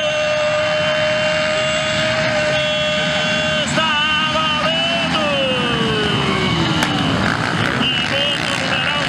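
VX4 race vehicles accelerate hard during a VX4 Nacional race in Sidrolândia, their engines a loud, continuous whine with pitch sweeping up and down over a steady, noisy background roar.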